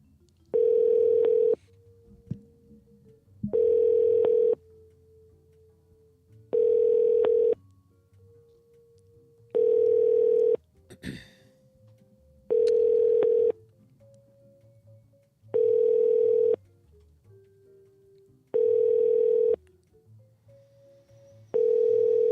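A telephone line plays a repeating electronic tone while a call transfers to an operator: eight evenly spaced tone bursts about every three seconds, with quieter line hum between them and no voices.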